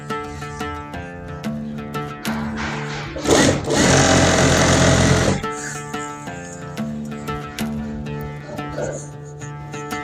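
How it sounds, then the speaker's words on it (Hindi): Domestic sewing machine stitching a border onto a curtain, running in a steady whirring burst for a few seconds amid shorter start-stop stitching, while someone talks over it. "इस लाइन के ऊपर मैं सिलाई करूँगा ऐसा।"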